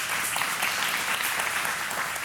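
An audience claps together at a religious teaching session, a steady, even wash of applause that fills the moment from start to finish.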